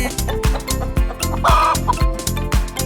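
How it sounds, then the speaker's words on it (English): Rhythmic clucking from a chicken, loud and close, repeated in short bursts over a steady musical beat as part of a children's animal song. "It's a chicken."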